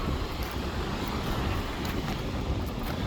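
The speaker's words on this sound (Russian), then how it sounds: "Сегодня штормик легенький такой на Санаторском пляже." Light storm wind at a winter sea beach in Arkhipo-Osipovka, a steady, loud roar of gusting air buffeting the microphone with surf washing beneath it, no voices.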